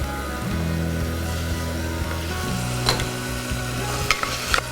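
Mutton sizzles and fries in oil inside a pressure cooker as it is stirred, a steady close crackle broken by occasional scraping clinks of the spoon.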